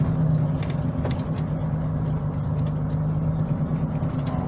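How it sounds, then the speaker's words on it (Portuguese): A truck with its engine brake engaged on a downhill road in rainy conditions gives a steady, loud, low droning rumble, constant and close, with faint ticks and rattles over it. "Freio motor ligado."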